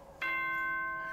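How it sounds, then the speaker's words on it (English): A bell chime in the video game Danganronpa 2, a sustained clear tonal ding that starts suddenly and rings steadily, loud and close, over a faint background hum. "That's the bell."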